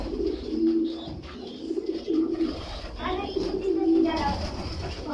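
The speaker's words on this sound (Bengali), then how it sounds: "আমার কবুতরগুলো কি তোমার ভালো লাগে?" Pet pigeons coo in soft, repeated low phrases close by, mixed with a voice and people talking at a home during feeding time.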